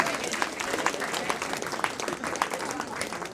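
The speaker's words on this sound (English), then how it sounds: "Let's give her a round of applause." Lecture-hall audience at a math talk claps steadily in a dense, continuous wash of applause with a few voices mixed in, moderately loud throughout.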